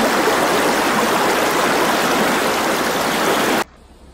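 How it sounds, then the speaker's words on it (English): Creek water rushing loudly and close on a ranch, a continuous broadband roar that cuts off abruptly near the end, leaving only a faint low background. "I'm gonna have me a little bath right here in the creek"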